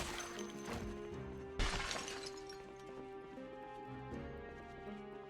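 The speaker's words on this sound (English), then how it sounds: "Some random glass shattering." Glass shatters in the video game Project Zomboid: one sudden, fairly loud crash with a brief scattering tail, set against steady in-game ambient tones.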